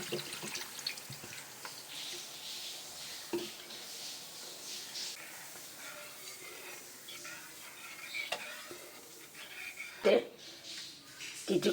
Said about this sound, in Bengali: আমি এর মধ্যে একটু জল দিয়ে দিচ্ছি।